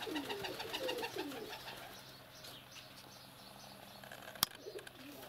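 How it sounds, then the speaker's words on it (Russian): Pigeons coo softly in a dovecote, a few rolling coos early on, then quieter rustling and a sharp tap, fairly close and moderate in level. "Там голубка."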